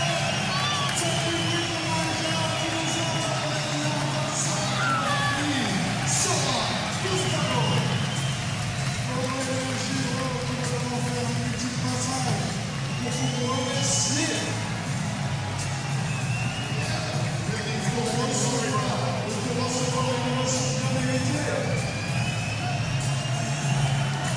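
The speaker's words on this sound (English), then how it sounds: "Aurélien Giroux getting his first ever SLS win here in front of the hometown crowd in France" A hometown crowd roars continuously at the SLS Paris skateboarding final in France, a loud, steady wall of cheering that runs throughout while talk sits under it.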